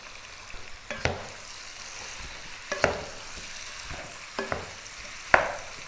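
Onion fries in butter with paprika under a low, steady sizzle while a utensil scrapes and stirs it in a few sharp, separate strokes.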